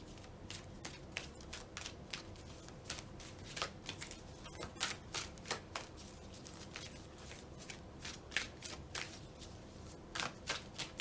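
Large tarot cards are shuffled by hand in a quiet room, a soft, continuous run of rapid papery flicks and riffles with irregular bursts.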